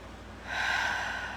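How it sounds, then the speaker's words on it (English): Deep breath drawn in through the nose during a calm morning guided relaxation, a single soft rising inhale that swells and holds, airy and close with no talking. "take a couple of nice deep breaths in through the nose. Exhaling through the mouth"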